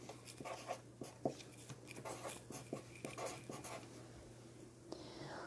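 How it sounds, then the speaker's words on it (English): A pencil scratches a word onto paper in short, quick strokes, close and soft, with irregular taps and pauses between letters in a quiet room. "Let's write it on our paper."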